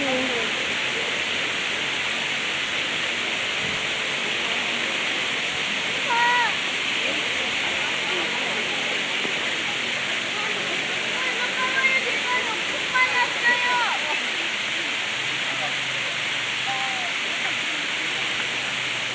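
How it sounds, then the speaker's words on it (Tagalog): Steady broadband roar of the Oslob waterfall in Cebu, Philippines, continuous and close throughout, with scattered voices and brief chatter faintly under the rushing water. "Oslob Waterfalls. Ayan. Okay. Ang ganda. Waterfalls ng Cebu."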